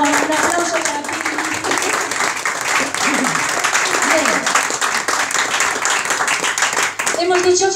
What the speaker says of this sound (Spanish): Un aplauso para Pili.